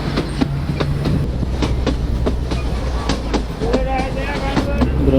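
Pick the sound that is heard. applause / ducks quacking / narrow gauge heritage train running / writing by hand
narrow gauge heritage train running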